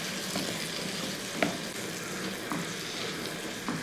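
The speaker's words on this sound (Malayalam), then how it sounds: "ഇതൊന്ന് ഇടയ്ക്കിടയ്ക്ക് ഇങ്ങനെ ഇളക്കി കൊടുത്ത് ഈ തക്കാളിയൊക്കെ നല്ലപോലെ ഒന്ന് വെന്തോടണം" Tomatoes cooking with salt in a pan, a steady soft sizzle with a few light clicks of a spoon stirring through, moderately close and with no voices.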